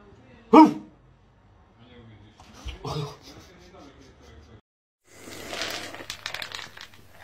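A dog gives one sharp, loud bark near the start, followed by quieter rustling, crinkling and faint indistinct voices in a home setting.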